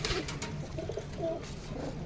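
Domestic pigeons coo softly at close range in a home loft, a few low murmuring calls overlapping in a steady background of cooing, with no speech.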